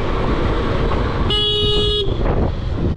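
A car horn honks once for under a second over steady traffic rumble and engine noise.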